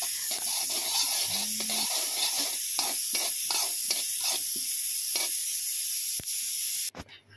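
Sesame seeds roasting in a hot pan give a steady, close hiss and sizzle, with faint scraping stirs pulsing through it, ending in a clatter.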